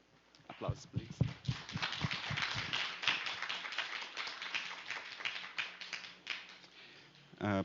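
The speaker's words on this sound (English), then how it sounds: "Applause, please." Audience at a Brazil-Japan international event claps for an introduced professor, a burst of sharp individual claps building into dense, even applause that holds for several seconds before fading, with a brief voice at the very end.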